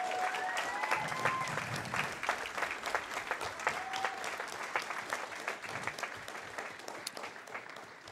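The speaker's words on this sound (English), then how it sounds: "So could I get a round of applause for her?" An audience at a speedrunning charity marathon keeps up a sustained round of clapping that fades gradually, with faint voices underneath.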